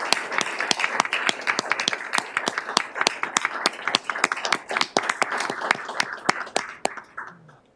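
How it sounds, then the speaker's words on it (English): A small audience at a county board of commissioners meeting claps for a person being honored, a loose room-sized applause with distinct individual claps, close and fairly loud, thinning out near the end. "I think we should all give you a round of applause"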